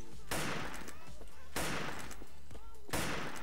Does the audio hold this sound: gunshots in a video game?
yes